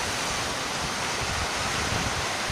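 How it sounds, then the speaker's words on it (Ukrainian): Small waves break on the Black Sea shore at Koblevo during a mini storm. The surf makes a steady, close, full roar of rushing water with no pauses or voices. "У мірках моря це, мабуть, так собі хвильки, а в наших не морських мірках так вроді як такі хвильки, що дай Боже"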